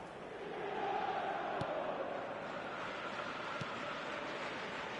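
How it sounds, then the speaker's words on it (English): A crowd cheers in a football video game, a steady, fairly distant roar that swells early and holds without a break. "Certainly gave this crowd something to really cheer about"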